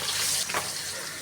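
Pabda fish sizzling as it hits hot oil in a wok, a steady bright frying hiss with a brief louder crackle burst midway, close and fairly quiet.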